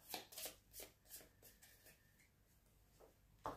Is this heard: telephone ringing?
no